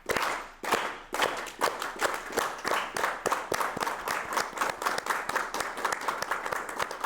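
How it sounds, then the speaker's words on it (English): An audience at a Chicana/o activism event claps in a steady, rhythmic beat, sharp evenly spaced hand claps kept going together throughout. "Please give a big round of applause to these wonderful. Let's keep the clap going."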